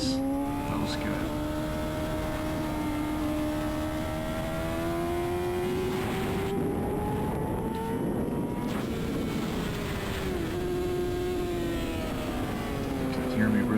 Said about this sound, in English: You can hear me really on that clutch, trying to get that rear to settle down.